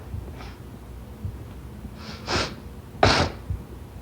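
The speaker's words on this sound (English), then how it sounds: "I am sorry for the sniffles still, but I'm slowly getting there." Several short nasal sniffs and snorty breaths come close to the mic, spaced irregularly over a quiet background.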